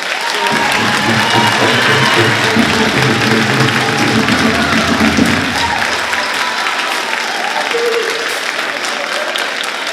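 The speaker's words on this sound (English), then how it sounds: "How about a round of applause" A crowd claps steadily in a large room at a school band concert, sustained applause that thins slightly toward the end as a few voices murmur.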